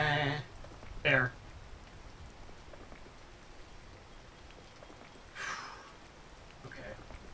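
Rain falls as a steady, soft hiss in the video game Peak, with short bursts of voices talking over it.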